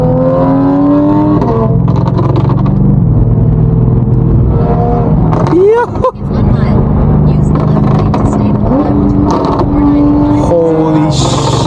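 A loud car roars through New York City traffic, its engine revving and rising in pitch as it passes close by, heard over the steady drone of another car's cabin while people talk.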